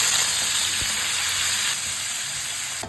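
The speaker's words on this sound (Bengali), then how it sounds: "বিফটা আমি এভাবে চিকন চিকন করে ছোট ছোট কেটে নিয়েছি, জাস্ট লবণ দিয়ে মেরিনেট করে রেখেছিলাম। এখন এটা আমি তেলে দিয়ে দিচ্ছি।" Thin strips of salt-marinated beef sizzle steadily in hot oil, a continuous bright hiss with no voices over it.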